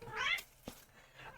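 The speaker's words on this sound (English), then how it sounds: "you might actually hear a cat meowing" A house cat meows once, fairly close but soft, with a short rising cry followed by faint room noise.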